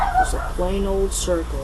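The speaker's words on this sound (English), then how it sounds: "That's my dog, sorry." A dog barks a few times indoors, short sharp yips under and between a person talking.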